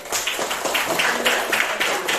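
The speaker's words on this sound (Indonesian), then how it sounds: "Nah, kita tepuk tangan untuk kelompok 1." A classroom group claps for the first presenting group, a steady patter of many hands close by, even and continuous with no voices on top.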